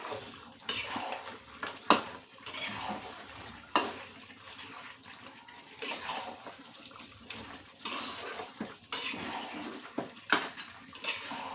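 Meat frying in a pot as it is stirred, with the spoon scraping and clattering against the metal in repeated bursts over a steady low sizzle, close and fairly loud.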